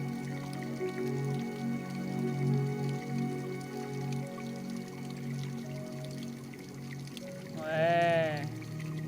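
Scuba diving air bubbles underwater off the Port-Vendres lighthouse in early July: a steady muffled underwater rumble with faint tonal hum, then a louder gurgling burst of bubbles rising near the end.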